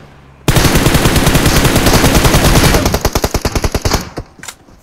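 Sustained automatic gunfire in PUBG Mobile, a loud, close, rapid unbroken burst that breaks into separate spaced shots toward the end before falling quiet.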